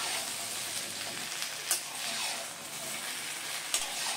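Mixed vegetables for Bengali shukto, including potato, eggplant, bitter gourd, beans, green banana and bori, stirred in a pan with a steady soft sizzle and two brief spoon scrapes, no voices.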